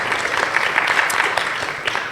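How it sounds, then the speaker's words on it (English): A short burst of audience applause fills a monthly discussion event on the existence of God, dense clapping from a seated crowd lasting about two seconds. "Please give a round of applause."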